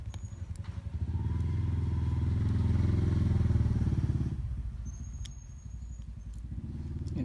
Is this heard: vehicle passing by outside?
yes